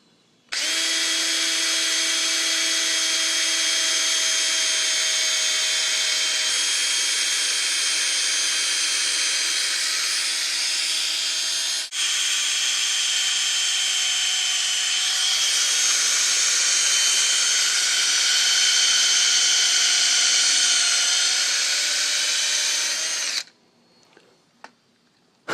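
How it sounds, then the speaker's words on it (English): A power drill whines steadily at close range for about twenty-three seconds while drilling a hole through a golf ball, with a brief dip midway, then cuts off, leaving a couple of small clicks. "we're going to hold the golf ball so that it doesn't come out while we drill it"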